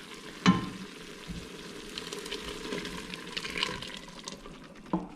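Beef simmering in its own released juices in a pot, a soft steady bubbling sizzle close by, with a couple of sharp clinks at the start and end and no voices.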